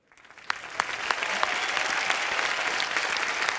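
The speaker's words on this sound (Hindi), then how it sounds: "उद्घाटन का ताली बजाओ।" Studio audience applause for a mock inauguration on a comedy talk show, clapping that starts from quiet with a few sharp claps and builds into steady, even applause.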